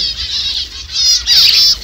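Caged birds in a bird shop, fancy pigeons, finches and budgies among them, chattering and twittering steadily up close, with a louder burst of calls near the end.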